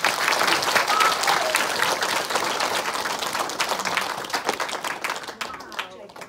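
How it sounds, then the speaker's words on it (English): A university audience gives a big round of applause, dense sustained clapping that gradually thins and tapers off over several seconds. "let's give her a big round of applause"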